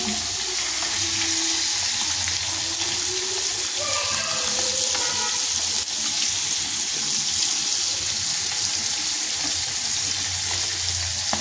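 Musi fish coated in masala fries in hot oil, giving a steady, close, dense sizzle that runs unbroken throughout, with faint watery crackle and no voices.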